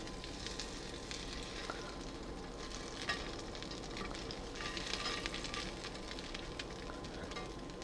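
Pan-seared crab cakes frying in oil in a pan, giving a steady, soft hiss of sizzling with small pops and crackles throughout, fairly quiet and with no talking.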